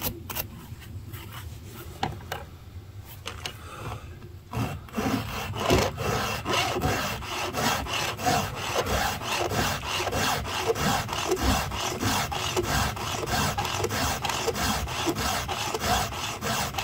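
A hand file sharpens a chainsaw chain, giving quick, light, rhythmic rasping strokes that repeat steadily and close up, with no talking.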